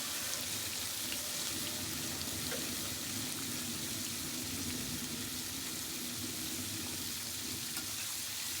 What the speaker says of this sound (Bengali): প্রথমে মা কড়াইতে তেল গরম করে দিয়ে দিয়েছে 3-4টা দারচিনি আর এলাচ, সাথে দিয়ে দিয়েছে পেঁয়াজ কুচি